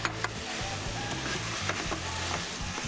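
A spoon stirs mashed potato mixture in a hot pan, a quick series of scraping, squelching strokes over a steady sizzle, close and fairly loud with no voices.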